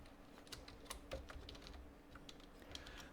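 Quiet, close typing on a computer keyboard as a word is entered into an Excel spreadsheet, with a steady run of soft, irregular key taps and no talking.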